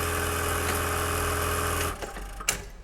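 Industrial plain buttonhole sewing machine running with a steady, loud mechanical hum and rapid stitching for about two seconds, then stopping, followed by a few faint clicks.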